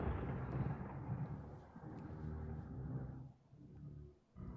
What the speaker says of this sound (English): Thunder crackles in the distance.